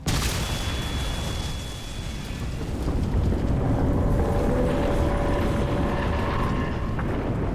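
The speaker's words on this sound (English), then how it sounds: "Explosion imminent." An explosion rumbles through a Crysis 2 Remastered game scene, a loud broad booming roar that swells and keeps rolling with crackling debris for several seconds.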